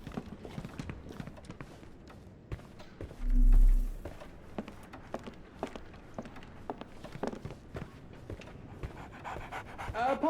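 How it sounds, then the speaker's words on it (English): Dog panting rapidly in the Sherlock Holmes The Awakened video game, a quick rhythmic series of breathy pants near and fairly quiet, with footstep-like clops and a brief low hum partway through. "So, Barnes has a dog now."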